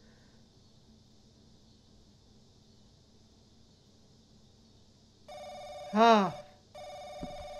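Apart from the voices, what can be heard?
telephone ringing in The Crooked Man video game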